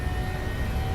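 A simulated PMDG 737-600 airliner's jet engines roar steadily as they spool toward takeoff thrust, a dense, constant rumble for about a second.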